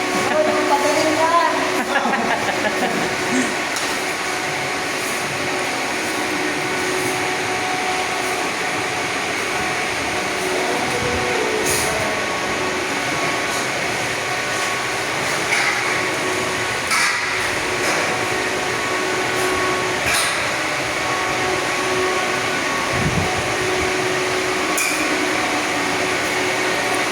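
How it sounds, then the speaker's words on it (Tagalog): A blower runs steadily with a constant mechanical drone on a mezzanine construction site, with people talking intermittently and occasional clatter over it. "Ingay ng blower."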